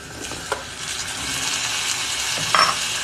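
Boiled eggs go into adobo sauce frying in a pan, which answers with a continuous close sizzle, a couple of faint clinks and a small splash near the end.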